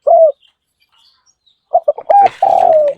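Soft cooing from a dove kept in a cage, one short coo, a pause, then a run of quick coos ending in a longer drawn-out note, close and clear.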